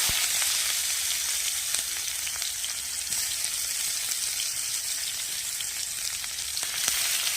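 Onions frying with cumin and garam masala in a hot pan, a dense, steady, close sizzle with faint stirring scrapes throughout.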